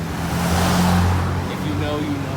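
A fast Jeep drives past on a West Hollywood street, a loud broad rush of engine and tire noise that peaks and fades over about two seconds while people talk over it.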